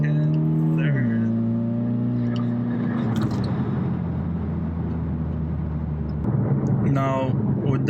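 A four-cylinder Ford Mustang with an aftermarket exhaust spins its wheels and accelerates hard, the engine note climbing and dropping sharply at each quick gear change, loud and close with a voice talking over it.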